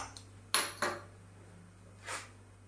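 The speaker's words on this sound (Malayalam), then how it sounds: "അതിന് വേണ്ടി ഒരു ചീന ചട്ടി എടുത്തു വെച്ചു" A metal wok (cheena chatti) is picked up and set down in a home kitchen, giving a few faint, sharp clanks spaced apart against a quiet background.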